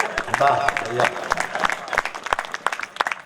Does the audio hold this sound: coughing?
no